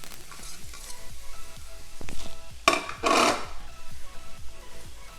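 Zucchini and carrots sizzling in a skillet while being stirred, with a steady frying hiss and rhythmic scraping strokes, plus two louder bursts of sizzle partway through, close by.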